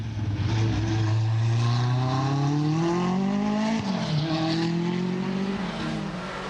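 Group B rally supercars of the 1980s, lightweight Kevlar-panelled machines of over 400 horsepower, race through a forest, a loud close engine howl rising steadily in pitch with a brief drop around a gear change, tyres scrabbling beneath.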